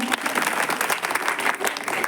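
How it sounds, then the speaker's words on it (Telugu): A festive audience at a Christmas celebration claps loudly and continuously, a dense steady patter of many hands filling the room. "అందరికీ గట్టిగా చప్పట్లు కొట్టి అభినందనలు తెలియజేద్దాం."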